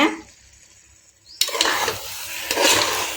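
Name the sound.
stirring chicken in gravy for biryani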